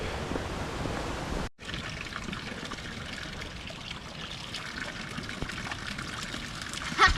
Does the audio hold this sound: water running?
yes